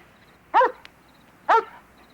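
A dog gives two short, sharp barks about a second apart, fairly close and clear against a quiet room background, with no talking.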